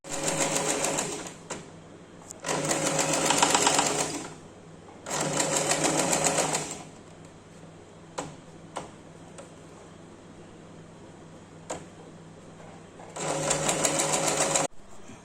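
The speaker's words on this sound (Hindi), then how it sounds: "यहाँ से आप इस पर स्टिचिंग कर लीजिए पूरे पे इस तरह घुमा घुमा कर पूरे स्टिच" A sewing machine stitches a plazo sleeve, running in four loud bursts of rapid whirring with short pauses and small clicks between them, no talk.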